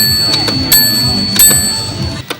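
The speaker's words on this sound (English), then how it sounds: "And then we can do ding in the bell." A bell rung by telegraph code at a computing history festival in Cambridge gives several sharp metallic dings and ticks with ringing overtones, spaced irregularly over a low background hum.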